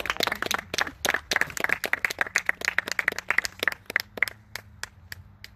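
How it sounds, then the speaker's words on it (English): A small audience claps by hand to honor Miguel receiving his black belt, the sharp, uneven claps close and distinct, thinning out and tapering off toward the end. "Clap it up for Miguel."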